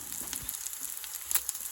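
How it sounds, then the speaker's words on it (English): Chicken bacon sizzles in warm olive oil in a cast iron skillet, a soft steady frying hiss with small crackles and pops, close and alone. "Got that little sizzle."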